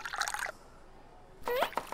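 Green tea is poured in the restaurant of the video game Dave the Diver, heard as two short bright liquid splashing bursts separated by a quiet gap.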